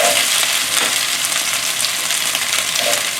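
Asparagus stir-frying in a very hot pan, a loud, continuous close sizzle and crackle with faint stirring scrapes mixed in and no talking.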